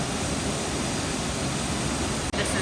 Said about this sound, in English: We're here at Horsetail Falls.